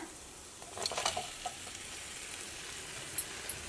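Chicken pieces tipped into a pan of fried masala and tomato for a Kerala-style chicken curry, stirred with soft scraping clinks and a gentle background sizzle, close and quiet, no talking.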